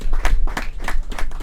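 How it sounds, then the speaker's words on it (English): Applause for a platinum sponsor at an NGO expo, a short burst of brisk, close hand clapping from a small crowd. "Let us give them a round of applause."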